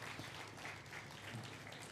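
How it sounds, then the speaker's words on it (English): Applause from the audience at an SDGs conference in Uganda, a continuous wash of many hands clapping for a minister, fairly quiet and steady without any voice over it. "Can we please clap?"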